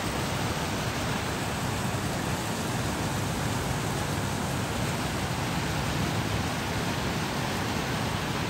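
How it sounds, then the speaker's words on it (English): The water feature at SoFi Stadium gives off a steady, even rush of falling water that fills the scene as a constant broadband hiss with no breaks or voices. "What the waterfall looks like."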